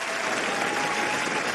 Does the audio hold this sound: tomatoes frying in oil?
no